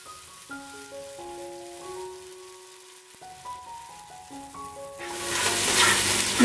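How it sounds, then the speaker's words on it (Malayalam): Onion and tomato paste is tipped into hot oil for a coriander and coconut chicken curry: soft background music plays first, then a loud, hissing sizzle bursts in for the final second and a half. "ഇതെല്ലാം കൂടെ എണ്ണയിൽ നല്ലപോലെ വഴറ്റിയെടുക്കണം."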